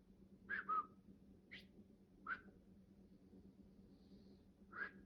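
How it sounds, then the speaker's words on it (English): Several short, faint whistled notes spaced irregularly, thin and breathy, over a low steady hum. "I can't whistle very well."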